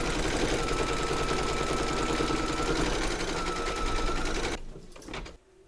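Sewing machine running a satin stitch on machine embroidery, loud continuous fast whirring hum close by, slowing and stopping near the end.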